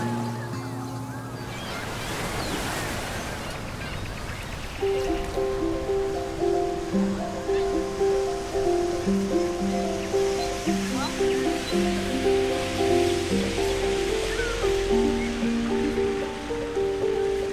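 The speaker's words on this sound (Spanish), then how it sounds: "Ahora se escucha el viento, las olas." Wind and ocean waves wash in a continuous, rushing surf, and a melodic music line of sustained notes enters partway through and plays over the sea noise.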